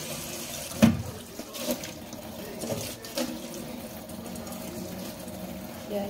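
Tap water runs steadily into a sink while peeled shrimp are rinsed for a seafood soup, with a few clattering knocks and splashes as the shrimp are handled.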